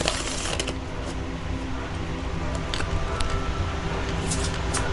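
Deck of oracle cards being shuffled by hand during a tarot-style reading, a continuous close riffling and rustling with a few sharper slaps and flicks, no voice over it.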